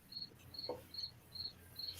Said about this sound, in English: I'm so sorry about my cricket, everybody.